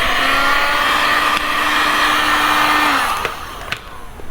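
A heat gun blowing hot air over vinyl wrap on a Toyota FRS widebody panel in chilly weather, a steady loud airy whir with a faint tonal whine that cuts off near the end, followed by soft handling clicks.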